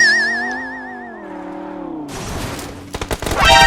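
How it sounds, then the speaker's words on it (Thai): Gunfire in the mobile battle-royale game PUBG Mobile: a wavering electronic tone fades into a noisy rush, followed by a quick cluster of sharp shots near the end. "ปูยิงให้หน่อยปู"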